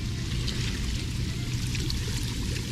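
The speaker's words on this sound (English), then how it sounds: "This might blow me around a little bit because these are really strong jets." Strong water jets of a Swim Life Playstream 12 swim spa, a loud continuous rushing and pouring roar, steady and close, with no talk.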